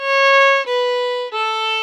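Fiddle plays a three-note descending scale in long sustained bow strokes, three clear held tones stepping down one after another, played solo with no talk.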